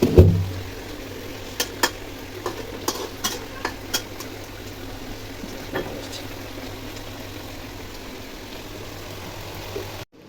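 Bitter gourd (karela) bhaji frying in a pan: a faint, steady sizzle with a string of sharp scraping taps from stirring in the first half, and no voices.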